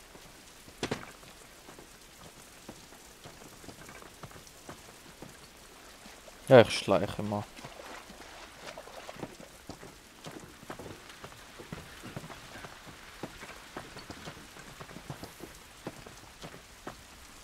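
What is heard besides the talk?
rain falling in the video game The Last of Us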